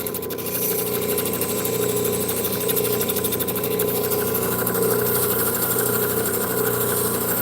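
Lapidary polishing wheels run with a steady, loud motorised whir and hum for the finishing cleanup of turquoise and jasper stones, an even drone with no pauses.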